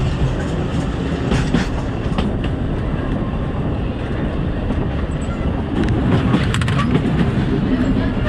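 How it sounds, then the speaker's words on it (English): Steady rumble and rattle from inside a moving train on the old Belgrade–Sarajevo railway, continuous and fairly loud throughout, with faint clickety-clack of wheels over the track and a few sharper creaks. "So that was a train ride."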